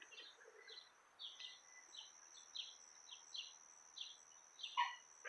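Birds chirp repeatedly from a garden hedge, short bright calls coming in a steady scatter at moderate distance over faint background hum, with no talking.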